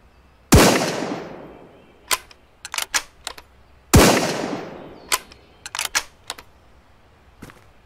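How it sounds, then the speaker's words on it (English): Two loud, sharp SA-85 hunting rifle shots in the game Road to Vostok, each with a long decaying echo, spaced a few seconds apart, followed by clicking bolt and handling clatter. "SA-85. I think this is a basic hunting rifle, right?"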